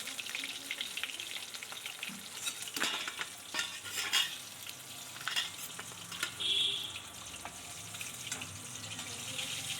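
Rohu fish pieces frying in oil are turned over with a spatula, producing a steady close sizzle broken by scraping stirs and soft clinks against the pan, with no talking.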